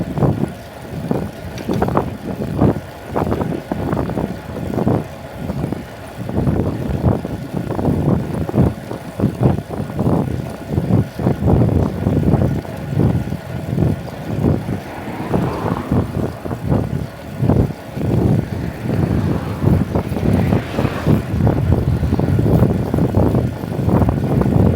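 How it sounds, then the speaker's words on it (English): Heavy, buffeting wind noise roars over the microphone while riding a Brompton folding bike at night on a road, loud and continuous with gusty surges and occasional bumps. "It should be wind"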